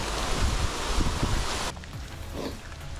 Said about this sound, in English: This is like flash flood rain right here.